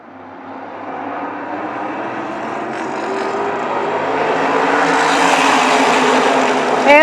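Race cars roaring around the track at Shangri-la Speedway as the green flag returns, a dense, steady engine roar that swells louder over several seconds as the pack draws nearer.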